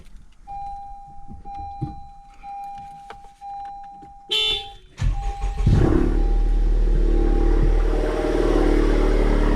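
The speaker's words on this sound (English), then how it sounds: "Whoops, that's my horn." A Honda Civic Type R gives one short, loud honk of its horn nearby after a quiet start, and then the engine turns over into a steady, low rumbling idle.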